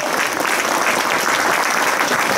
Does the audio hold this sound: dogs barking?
no